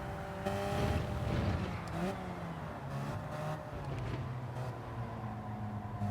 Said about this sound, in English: Oh wow, the RX-7 sounds incredible.